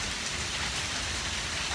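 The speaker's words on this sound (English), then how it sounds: "yeah, that's hail" Hail pelting down during a thunderstorm at an evening outdoor community event in Raymore, Missouri, a dense, steady hiss of impacts that holds unbroken and fairly loud for the whole stretch, with no voices over it.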